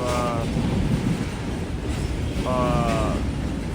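A long freight train of intermodal containers rolls steadily past close by, a loud continuous rumble and rattle with two short bursts of high wheel squeal.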